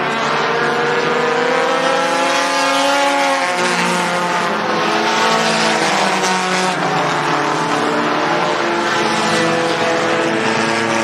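Sport compact race cars roar around the Mohave Valley Raceway track, engines droning loudly and continuously with shifting pitch as one car slides high and nearly spins out, close and dense with no talk audible.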